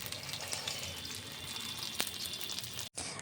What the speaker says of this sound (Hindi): इस टाइम इस साइज़ का फ़िश फ्राई कर रही हूँ